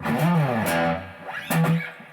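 Electric guitar played through a Fender Hot Rod Deluxe George Benson signature amp with the boost engaged for light overdrive, giving a few sustained, harmonically rich notes that ring out with a short gap between them.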